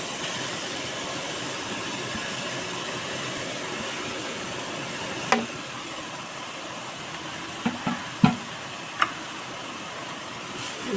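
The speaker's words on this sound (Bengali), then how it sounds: "দিয়ে আমি 5 মিনিট একটু ভেজে নিব গাজরগুলো।" Grated carrots frying in ghee over low heat, a steady soft hiss and sizzle throughout, with a few sharp clicks and taps from stirring near the end.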